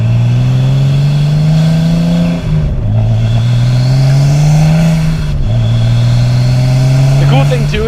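An R33 Nissan Skyline engine and exhaust rev through gears while driving, the loud droning note rising steadily, dropping at shifts around 2.5 and 5.5 seconds, then climbing again, close and prominent throughout.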